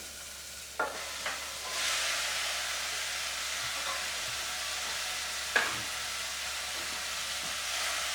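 Beef mince, 500 grams, frying in a pan with a steady, fairly loud sizzling hiss, preceded by a few soft clatters as the meat goes in and a brief clink partway through; no talking.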